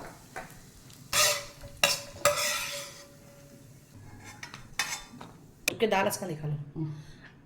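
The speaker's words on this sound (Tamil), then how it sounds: "அதில் நம்ம கேஷ்யூ நட்ஸ் சேர்த்து அதை நல்லா கோல்டன் ப்ரௌனாக வறுத்து எடுத்துக்கலாம்." Cashew nuts frying in ghee in a pan: bursts of scraping and clinking from a spatula moving the nuts, with a light sizzle in between and some voice in the background.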